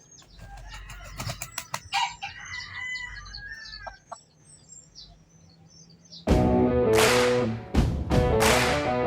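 A labuyo, a jungle fowl rooster, crows and clucks nearby, its calls sharp against a quiet background, followed by a louder burst of crowing toward the end.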